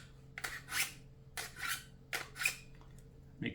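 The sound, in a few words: scissors being sharpened in a four-stage knife sharpener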